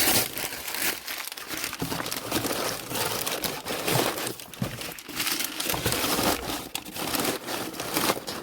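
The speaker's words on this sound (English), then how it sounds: "breaking off the graph paper" Graph paper is crumpled and packed around a mug, giving continuous close crinkling and crunching with uneven bursts and no pauses.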